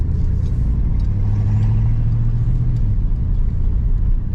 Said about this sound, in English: Transmission shift. There's third gear.